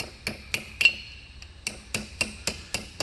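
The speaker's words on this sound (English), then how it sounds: "And just hammer that down." Sharp metallic hammer blows on an aluminum ear flap hinge for a replica colonial marine armor build, about ten taps in an uneven rhythm with a ringing edge, close and alone.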